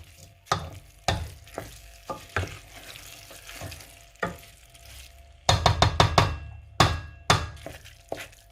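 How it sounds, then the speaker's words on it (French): Uncooked, unwashed rice toasting in a pan for rice gras, stirred with a utensil, giving repeated scraping, rustling sweeps with a soft sizzle underneath, close by, in bursts with short pauses between strokes and no talking. "nous faisons légèrement griller ce riz"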